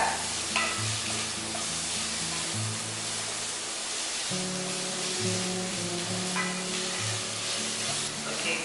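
Pork being stirred with shrimp paste in a hot pan, a steady close sizzle and frying hiss with scraping stir strokes throughout, no talking.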